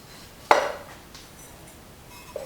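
Bisque-fired pottery bowls clink together as they are unpacked: one sharp, ringing ceramic knock that decays over half a second, then a smaller clink near the end, close and clear in a quiet room.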